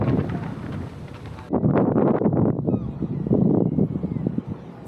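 Wind blowing at the top of a tower in Portland, Maine, as steady close buffeting and rumble on the microphone, growing stronger partway through and remaining gusty throughout.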